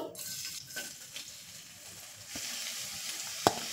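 Steady hissing sizzle of finely chopped garlic frying in hot oil for a soup tempering, fairly quiet, with a brief clink of a utensil near the end.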